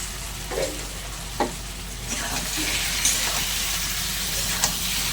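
Fried prawns go into a pan with kochur loti and potatoes, a loud close sizzle swelling as they hit the hot oil, with several scraping stirs over the steady frying.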